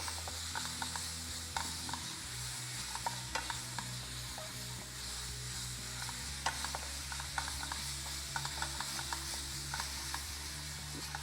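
Ginger-garlic paste, about one and a half teaspoons, fries on high heat in a pan for a keema bitter gourd curry, giving a soft continuous sizzle with intermittent ticks of stirring, nobody talking.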